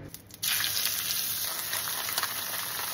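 A sea bass fillet, salted and peppered, hits a hot pan skin side down, breaking into a loud, continuous sizzle that holds steady to the end.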